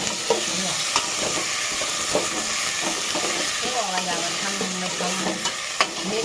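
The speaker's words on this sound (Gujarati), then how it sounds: "તેલ થોડુંક ઉકળી ગયું છે તો આપણે ડાયરેક્ટ નાખી દેવાનું છે આવી રીતે જો મસ્ત વઘાર કર્યો છે" Spices for a Gujarati village-style tempering crackle and sizzle in hot oil, a steady hiss punctuated by sharp pops and the clink of stirring, close by with no voices.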